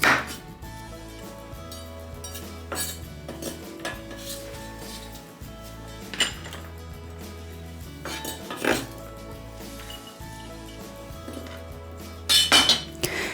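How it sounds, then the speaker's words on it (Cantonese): Bitter melon cut into thin slices about 2 mm thick, a knife knocking on a cutting board in irregular clusters of close, sharp taps, with a brief rattle of kitchenware near the end. "然後將佢切片，大約2mm 夠啦，唔好切太厚喎。"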